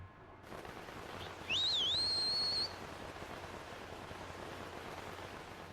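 A single rising, sustained whistle calls a Loftwing bird in The Legend of Zelda: Skyward Sword, sounding about a second over a steady hiss of background noise, with no voices.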